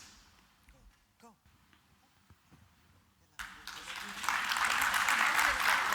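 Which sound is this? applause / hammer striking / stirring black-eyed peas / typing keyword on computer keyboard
applause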